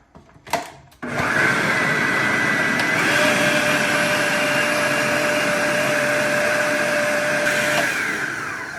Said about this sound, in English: So now you're going to constantly scrape it down to make sure that everything is blended correctly.